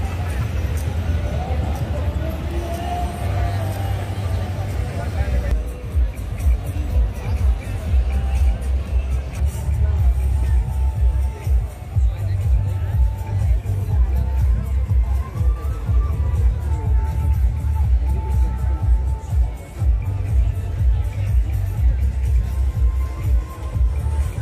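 A busy night crowd on Baga beach in Goa, a dense continuous babble of many voices with low rumbling background noise and nearby talking throughout.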